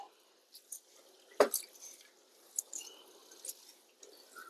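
Quiet squishing and dripping of rice being swished by hand in water outdoors, with soft irregular splashes and one sharper slosh.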